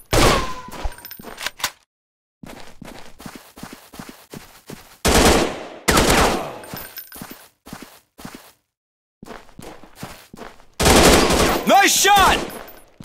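Gunfire rings out in the Android first-person shooter Counter Terrorist Strike, with sharp, punchy shots in separate bursts and single cracks spread over several seconds, some rapid-fire strings louder than others.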